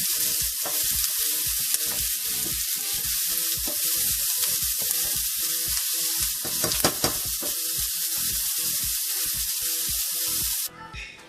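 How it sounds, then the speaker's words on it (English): Food sautéing in a hot pan sizzles loudly and continuously, with a rhythmic pattern of stirring and tossing throughout, ending with a brief hiss. "You want to saute them until they're like translucent."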